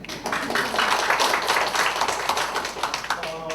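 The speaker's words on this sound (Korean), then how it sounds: "박수 치시죠." A small audience at an academic conference claps together in a brisk, dense patter of hand claps that carries on for a few seconds before tapering.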